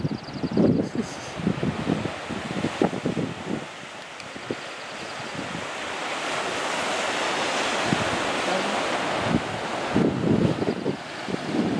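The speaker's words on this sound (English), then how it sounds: "Look at the waves hitting that rock." Steady ocean surf roars across the whole stretch at Pebble Beach, California, with louder bursts of waves breaking on rocks near the start and end, and wind buffeting the microphone.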